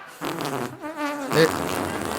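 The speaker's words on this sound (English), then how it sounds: "There's gentle fart." A gentle fart played for a comedy stage show: a soft, buzzy, wavering tone lasting under a second, close and clear, with a short burst of room noise or a voice around it.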